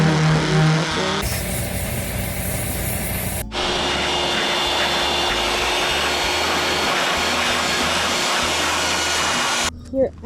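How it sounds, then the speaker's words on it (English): A belt sander grinds down fiberglass on a school bus body, a loud continuous abrasive roar that shifts in tone a couple of times before cutting off near the end. "Shortly after, we grabbed the belt sander."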